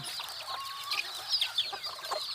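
Clucking from bantam breeding stock carries on in irregular bursts, several birds calling over one another nearby with a few sharper squawks and no voices.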